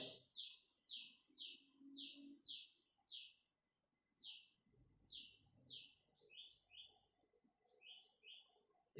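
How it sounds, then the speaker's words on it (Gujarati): A sparrow chirps repeatedly in short, bright bursts, about a dozen calls spaced fairly evenly with brief pauses. The chirps are moderately faint and heard alone. "ચકલી બંધ થાય ને."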